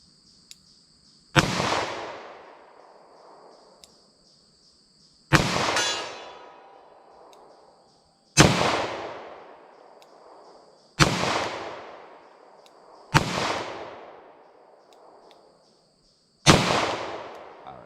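Six loud revolver gunshots from .357 Magnum and 10mm revolvers, each a sharp crack with a ringing decay, spaced a few seconds apart at a steady pace.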